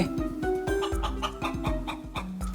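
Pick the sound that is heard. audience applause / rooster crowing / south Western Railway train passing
rooster crowing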